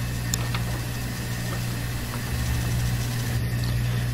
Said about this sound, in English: we will turn off the bench grinder and it will enter a coast down procedure